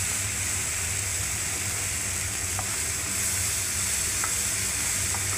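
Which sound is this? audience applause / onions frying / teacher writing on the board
onions frying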